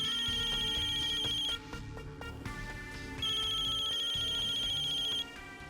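A phone's electronic ringtone plays a bright repeating melody, loud and close, with a brief dip in the middle before the tune resumes, no talking over it.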